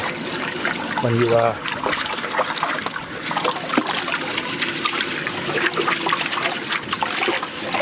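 Water bubbles and trickles steadily in a small koi pond, a constant close splashing with a short louder gurgle early on.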